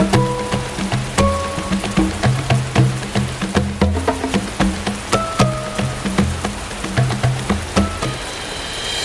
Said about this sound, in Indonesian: Hujan deras terus mengguyur jalur pendakian, membuat setiap langkah terasa berat.